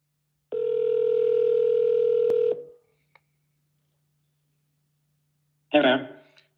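A telephone call gives one long steady tone for about two seconds, a faint click, quiet, then a voice answers near the end.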